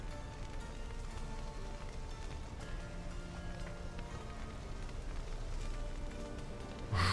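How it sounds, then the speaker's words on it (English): Steady rain falling in the video game The Witcher 3: Hearts of Stone, a soft, even patter spread over the whole stretch, faint and continuous with no voices. "It's raining."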